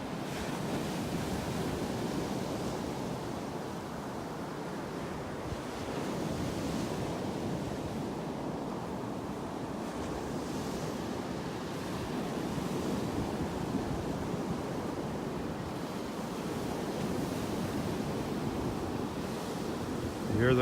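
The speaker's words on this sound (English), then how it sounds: "Can you hear those waves?" Ocean surf rolls and breaks continuously at Naples Pier, a steady wash of waves with wind buffeting the microphone, no talking.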